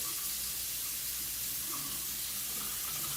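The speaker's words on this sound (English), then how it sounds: "I'm gonna add some cold water." Cold tap water runs steadily from a kitchen faucet to bloom a small amount of gelatin, a continuous close hiss and splash with no talking over it.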